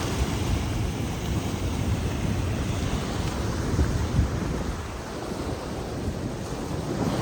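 Ocean waves break steadily on a beach in Sri Lanka, a loud, continuous rushing surf with heavy wind buffeting the microphone and no talking.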